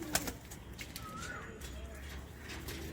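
Andhra pigeons, a Madrasi flying breed, give soft, faint coos against a quiet room background, with a brief knock near the start and no clear speech.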